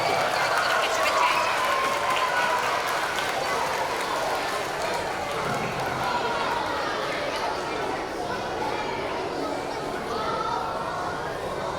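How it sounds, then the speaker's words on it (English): A school crowd applauds a top kindergarten reader at a reading challenge event, steady clapping mixed with children's chatter and movement throughout, fairly loud and continuous. "Give a round of applause for her."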